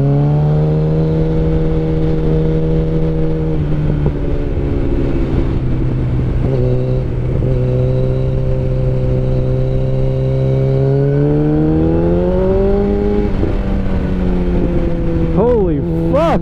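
A fast motorcycle climbs up Mulholland with a loud, steady engine drone that shifts pitch as it rises and falls through the corners, close by and continuous.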